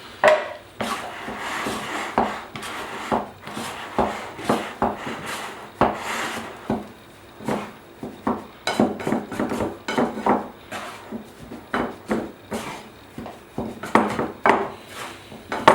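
Repeated scraping and chopping taps against a work surface, irregular and close, as a dough scraper chops dry ingredients into wet, sticky bread dough for a crusty loaf.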